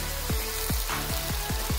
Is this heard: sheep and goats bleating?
no